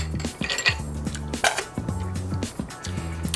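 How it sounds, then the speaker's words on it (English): A metal bar spoon stirring a Rob Roy cocktail with ice, giving close, bright clinks and a ringing, tinkling rhythm of ice knocking against glass, heard alone without talk. "Give it a quick stir."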